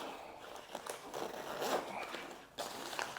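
A zipper runs along a life jacket, a continuous rasping pull of close, moderate loudness that breaks off briefly and then resumes.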